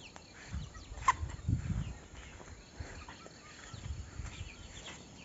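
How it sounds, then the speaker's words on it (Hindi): Roosters and chickens cluck and call faintly from a distance in an outdoor village setting at early morning, with crickets and low background noise, no talk. "कितने सारे मुर्गे यहाँ पे"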